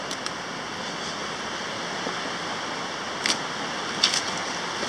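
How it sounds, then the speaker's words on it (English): A small river flows past a rocky campsite on the Pacific Crest Trail, a steady broadband wash of running water, moderately near, with a few faint high chirps or clicks and no voices. "It's a beautiful little river here."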